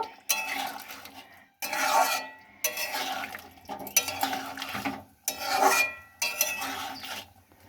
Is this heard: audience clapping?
no